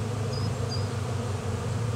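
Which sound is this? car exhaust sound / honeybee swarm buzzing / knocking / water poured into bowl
honeybee swarm buzzing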